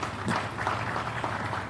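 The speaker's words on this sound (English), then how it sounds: "Another round of applause for His Lordship." A crowd at the Kwahu business forum in Ghana applauds, a brief, steady wash of many clapping hands heard from a middle distance with no speech over it.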